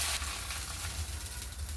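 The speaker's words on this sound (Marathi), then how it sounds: "आता आपण दुसरं थालीपीठ तव्यावर भाजायला टाकू।" Thalipeeth, a traditional Maharashtrian flatbread, roasting on a hot tava griddle gives a steady, close sizzle and crackle that runs unbroken, with no talking.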